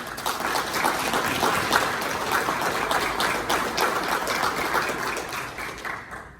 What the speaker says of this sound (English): a round of applause for family